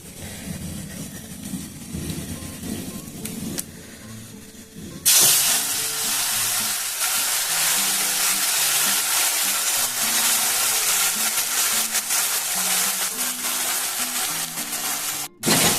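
Spice paste of ginger, garlic, onion, chilli and tomato mixed with yogurt hits hot oil for a pumpkin kofta curry, bursting into a loud, steady sizzle and hiss after a quieter start, continuing without talk.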